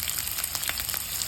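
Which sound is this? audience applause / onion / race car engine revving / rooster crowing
onion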